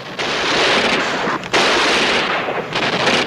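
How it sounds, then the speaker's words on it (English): Gunfire from a 1964 World War II combat TV series crackles loudly and continuously. It has a harsh, noisy texture with a brief break partway through, and no talking over it. "Shots!"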